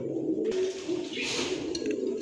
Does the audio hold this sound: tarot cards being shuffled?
no